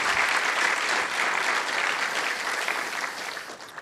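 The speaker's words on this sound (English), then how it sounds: "A round of applause for our volunteers." An audience at a JavaScript conference applauds the volunteers, a thick, steady wash of many hands clapping that gradually thins out, with no talking over it.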